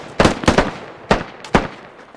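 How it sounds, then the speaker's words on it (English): Gunfire in the video game Squad: about five sharp, loud shots, two quick pairs and a single, close and punchy with short echoing tails, no voices over them. "Godzilla shooting at Londarts."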